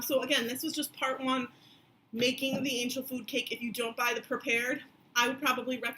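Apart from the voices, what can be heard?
No everyday noise stands out behind the speech.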